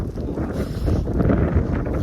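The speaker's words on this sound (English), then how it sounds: "Actually, guys, I don't mind when it's snowing, but it's the wind." Strong wind in a snowstorm in Kristiansand, Norway, blustering steadily and loudly against the microphone as a continuous low roar, with no break across the short stretch.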